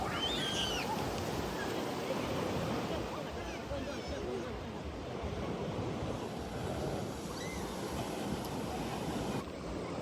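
Sea waves wash onto a beach in a broad, continuous surf roar with wind buffeting the microphone, steady and fairly loud throughout.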